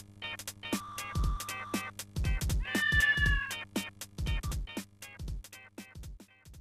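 Repeated cat meows from the Atari Jaguar game Club Drive, with more than a dozen short calls coming one after another at a brisk, uneven rhythm, some of them drawn out, clear and fairly close, with no talking.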